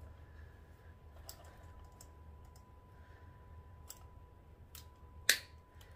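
Cutting off the loose end of a grapevine wreath with a snipping tool: faint scattered clicks followed by one sharp, crisp snip near the end, close in a quiet room with a steady low hum.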